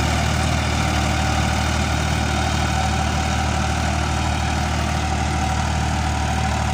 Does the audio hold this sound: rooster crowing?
no